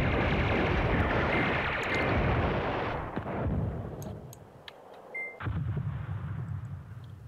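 Artillery fire in the Command Ops 2 wargame, a dense, sustained roar of distant guns and blasts that rumbles for several seconds, thins out briefly with scattered cracks, then swells again.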